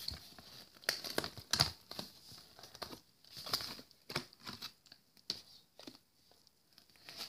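Packaging being ripped apart by hand, a string of irregular crinkling tears and rustles close up, with short pauses between the louder rips.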